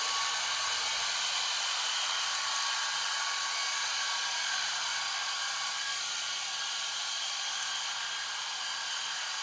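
A Dyson cordless stick vacuum (V7/V8/V10 type) fitted with an anti-tangle LED-lit floor head runs steadily, a loud constant high-pitched whir and airy rush that holds without pause from start to finish.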